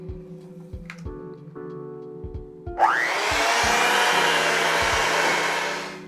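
A few light taps and knocks come first. Then an electric mixer kicks on in cookie dough with brown sugar and whirs loudly and steadily for several seconds before easing off.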